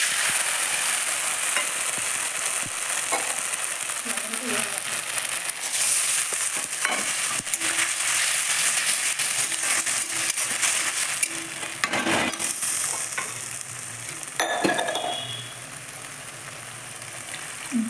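Besan posto, a poppy seed paste with green chilli and gram flour, sizzles steadily in a pan, a continuous frying hiss with occasional clinks and scrapes of stirring throughout.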